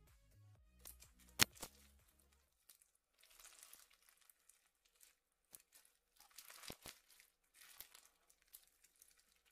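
Crunchy slime packed with beads is kneaded and squeezed, soft intermittent crackling and crinkling pops, close and quiet, with a sharp click near the start.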